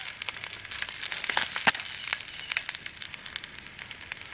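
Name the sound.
two sausages sizzling while cooking at camp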